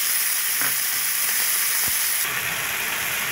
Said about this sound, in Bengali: এবার আমি আদা বাটাটা দিয়ে দিলাম, আর টমেটোটা দিয়ে দিলাম